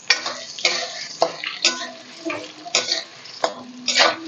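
Dried red chillies tossed into hot oil with chana dal and urad dal, giving repeated scraping stir clatters of a spoon against the pan with soft frying crackle between, fairly close, no talk.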